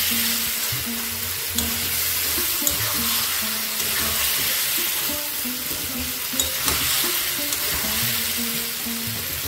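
Minced mutton keema frying in spice masala over a medium flame, a steady close sizzle with intermittent stirring scrapes and soft clinks running throughout, no voices.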